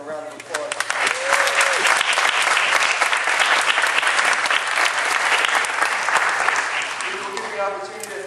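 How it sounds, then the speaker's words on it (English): Audience clapping at a school performance, a dense, steady burst of applause that builds within the first second and holds loud and close for about eight seconds before easing off. "Let's give them a round of applause."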